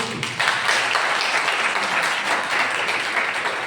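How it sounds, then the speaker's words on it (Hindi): An audience at a religious gathering for a guru applauds steadily for several seconds, a dense wash of clapping at moderate distance with no talk over it. "ताली बजती है"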